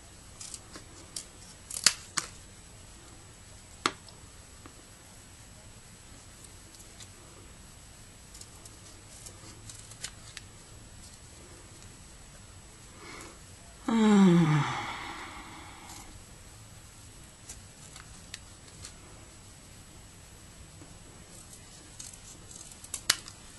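Scissors snipping around a paper photo for a resin charm, scattered small cuts in a quiet room with one louder rustling crunch midway.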